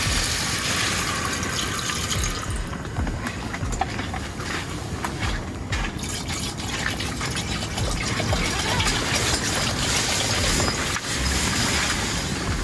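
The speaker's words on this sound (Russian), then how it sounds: "Заливаем воду." Water pours steadily into a pot for pea soup on a winter fishing trip by a river, a continuous loud rushing splash that runs without pause, close by and with no talk.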